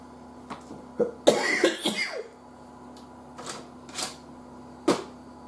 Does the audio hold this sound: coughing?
yes